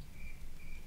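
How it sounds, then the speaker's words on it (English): Crickets chirping at night in the Roblox game RoCitizens, two steady trilling pulses over a soft, continuous background. "I hear the crickets."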